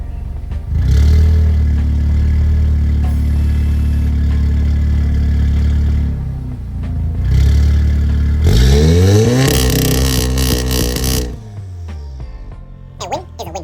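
A VW Golf 7R engine, heard from behind the car, idles loudly, then revs up in launch control toward 3,200 to 3,500 rpm, with sharp rising and falling rev sweeps before settling back.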